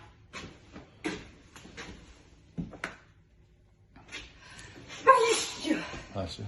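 A sudden sneeze bursts out near the end, amid scattered household clatter and nearby voices.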